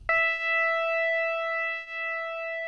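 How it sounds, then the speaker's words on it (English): A Prophet 5 plugin synth plays a single clean held note with pulse width modulation and no effects, a quiet steady tone with slowly shifting timbre after a sharp onset. "So you can hear the pulse width being modulated there."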